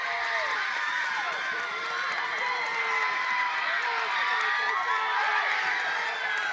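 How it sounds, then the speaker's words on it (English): A soccer crowd at a varsity boys match, Marblehead vs. Masconomet, roars continuously after a goalkeeper's save, a dense, loud wash of cheering and shouting voices that stays steady throughout. "And the crowd goes ballistic."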